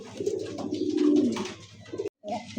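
Pakistani High Flyer pigeons at a pigeon sale give a close, steady stream of throaty cooing that runs almost unbroken, pausing briefly near the end before resuming.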